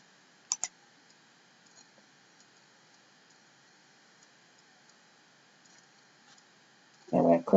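A computer mouse gives two quick, crisp clicks early on against quiet room hiss, followed later by a short burst of speech.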